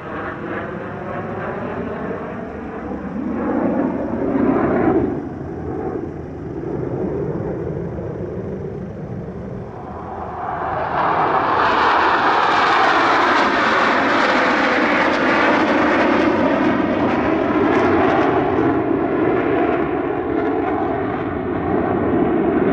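Black Eagles aerobatic team jets flying a display at the Langkawi airshow, loud engine roar rising and falling as the formation passes, then surging into a sustained bright, powerful howl overhead.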